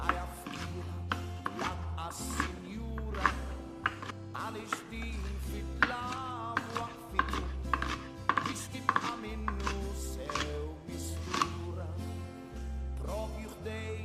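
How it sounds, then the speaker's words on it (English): Asparagus chopped on a cutting board with a knife, a steady run of quick, crisp close-up knock-and-slice strokes, over background music. "The rest we chop it up"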